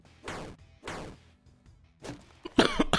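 Several sharp, loud coughs burst out in quick succession, close to the microphone, from a person streaming a Dungreed game session, followed by a harsher, clustered fit of coughing at the end.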